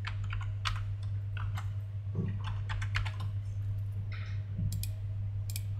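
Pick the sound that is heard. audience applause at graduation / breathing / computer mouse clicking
computer mouse clicking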